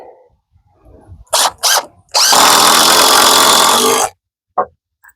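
A power drill drives screws into a window header on a load-bearing wall in an 8x8 tiny house build: two short bursts, then a loud sustained run of about two seconds, and a final brief blip.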